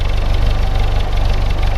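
A Willys CJ2a's L134 flathead four-cylinder runs steadily up close, a continuous low, even rumble with a faint rhythmic knock throughout, no voices.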